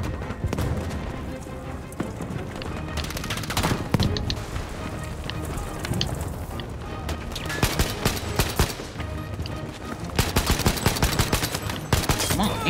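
Sustained gunfire from the video game Battlefield 5, machine-gun bursts and single shots crackling throughout, dense and loud, with booms and other battlefield effects beneath.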